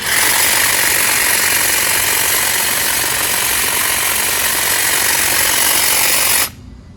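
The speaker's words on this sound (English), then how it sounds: "So let's go over this branch here, or this bush here, let's see how it does." Makita hedge trimmer cutting a bush, a loud continuous buzzing motor with chattering blades that cuts off abruptly near the end.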